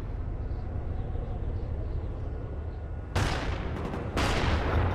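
Two sharp, loud bursts of M16 rifle fire ring out in a video game match, each a sudden broadband crack with a short tail, over a low steady background rumble.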